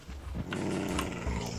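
A brief low dog growl rumbles through a short stretch of Minecraft game audio, with faint clicks and noise around it.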